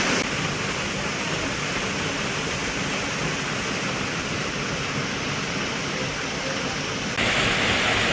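Rabandhara waterfall in Kalahandi drops water from 20 to 30 feet up beside a cave temple, giving a constant, loud, broadband rushing roar with no breaks, close by and unvarying.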